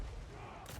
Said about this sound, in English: Great cannon! Ordnance ready!